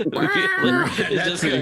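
A pet cat meows loudly and close, a drawn-out wavering yowl that overlaps with a person talking nearby.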